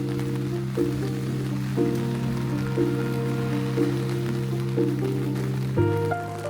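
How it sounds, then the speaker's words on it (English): Steady rain falls on a road along a walking route, an even hiss that stays constant throughout, with a sustained tonal drone underneath. "it's expected to rain the entire way"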